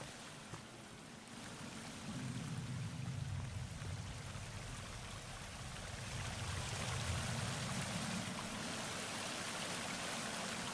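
A waterfall in the video game Sons of the Forest roars steadily as a continuous rushing wash of water, heard alone without talk.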